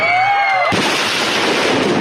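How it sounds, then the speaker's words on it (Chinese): Colored fireworks fired into the air at a gender-reveal party outside a family restaurant in Wufeng, Taichung: a thin whistling tone, then a sudden loud blast that becomes a sustained, crackling roar. "彩色烟火射向空中，"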